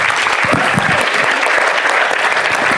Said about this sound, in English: A round of applause for our wonderful panel.